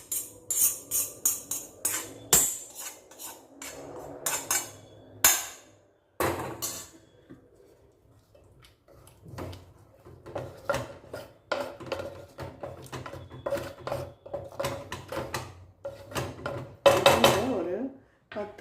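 A spoon stirs an onion mixture in a cooking pan with a run of scraping, clinking strokes near the mic, set for mixing into white sorghum rice. A voice speaks over the stirring at times.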